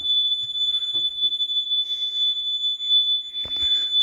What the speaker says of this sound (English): There's that alarm that's annoying as heck.